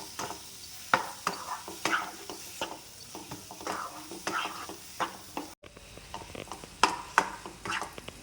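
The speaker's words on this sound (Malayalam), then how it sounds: "ആ തേങ്ങയുടെ ഒക്കെ ഒരു പച്ചമണം പോകുന്നവരെ നന്നായിട്ട് വഴറ്റിയെടുക്കും." Ground coconut sautéed in a pan for a Kerala brinjal curry, with repeated scraping stirs and a soft sizzle underneath, close and fairly quiet, one brief dropout midway.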